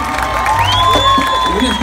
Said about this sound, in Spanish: Aplaudan a su talento